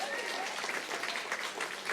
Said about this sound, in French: ceux qui le croient peuvent applaudir pour motiver les troupes